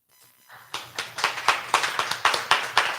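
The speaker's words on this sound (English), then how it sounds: "that applause was hard to come" A small radio-show studio audience claps after a short silent pause, a sparse, near clatter of a few hands with distinct rhythmic claps rather than a dense roar.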